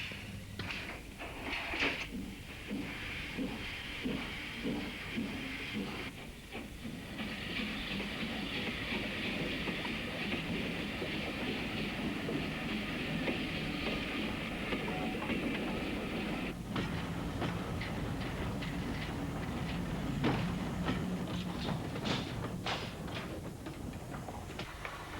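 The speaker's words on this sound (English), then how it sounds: "the daily goods train shunting back and forth and dropping off or collecting the odd wagon or two" A steam goods train shunts on a branch line, wagons rumbling and clanking with rhythmic clickety-clack bursts, a steady hissing roar through the middle, and more buffer knocks near the end.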